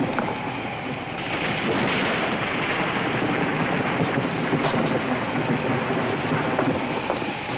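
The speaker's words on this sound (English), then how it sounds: "It's hard to tell in a storm like this." A thunderstorm sound effect in an old radio drama rumbles as a steady roar of rain and wind. Low thunder booms roll beneath it, and the sound stays fairly loud and continuous throughout.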